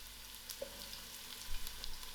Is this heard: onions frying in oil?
yes